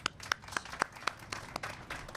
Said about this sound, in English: I want to give another round of applause for Rhoads Industries and for the governor